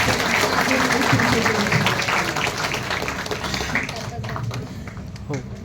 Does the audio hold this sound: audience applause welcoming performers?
yes